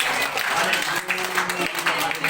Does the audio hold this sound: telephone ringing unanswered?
no